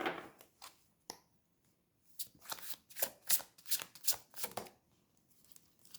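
A deck of tarot cards is riffled and shuffled close up and quietly in bursts, with short pauses between them and a single snap near the start.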